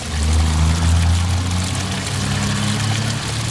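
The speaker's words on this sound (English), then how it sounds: "So we'll let all the gray water come out." Gray water gushes steadily out of an RV holding tank through a drain, a continuous rushing pour with a low rumble that stays even for the whole stretch.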